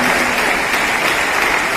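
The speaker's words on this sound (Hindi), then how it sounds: "बस स्वागत में ताली से स्वागत कर दीजिए एसएसपी और सिटी एसपी का" An audience at a traffic-safety event claps loudly and steadily, welcoming the SSP and City SP with a dense, even wash of applause from start to finish.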